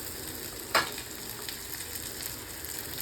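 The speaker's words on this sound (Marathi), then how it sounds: "आता हे भेंडी टाकते बघा" Okra dropped into a hot pan for a Marathi home-style okra dish, giving a steady close frying sizzle with a brief sharper burst as the vegetable hits the oil.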